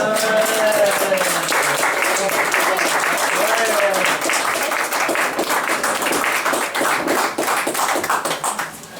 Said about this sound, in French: Alors vous allez l'applaudir comme il se le doit